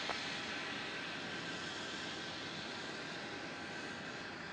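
A Qantas Boeing 737 jet lines up on runway 27 at Melbourne Airport, its engines giving a steady, distant roar and hiss that holds evenly throughout with no voices.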